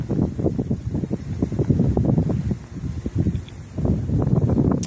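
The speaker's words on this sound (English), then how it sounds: "I'm going to let that wind pass by before I continue." Strong gusts of wind outdoors on a clear day buffeting the microphone, rough low rumbling surges that rise and fall in waves.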